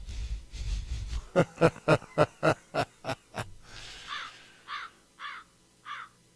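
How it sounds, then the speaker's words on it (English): Crows cawing in a high desert setting, a rapid run of about ten loud, evenly spaced harsh caws followed by three more spaced calls, close by with no talk over them. "the crows are howling away"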